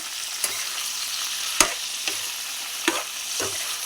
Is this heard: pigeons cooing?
no